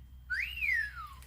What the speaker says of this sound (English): Oh, because it whistles.